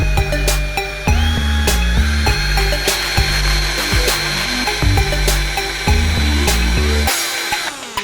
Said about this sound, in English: Let's drill the last hole for the smallest wire.